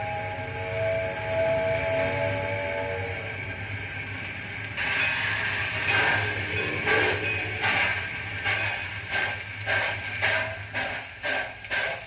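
A train sets off in a radio drama sound effect: a steady low rumble and hiss build up, then rhythmic chuffing bursts grow quicker and louder, moderately close, with no talking.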